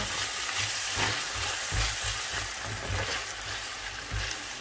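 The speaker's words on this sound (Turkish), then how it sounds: "Birazcık havucum sotelensin" Diced carrots sauté in a hot pan with a steady, close sizzle and frying crackle, with faint stirring scrapes and no talking.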